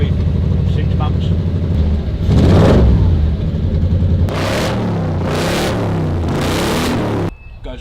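A gasser hot rod's engine runs rough and loud with a rumbling idle and revs up in bursts, under people talking nearby.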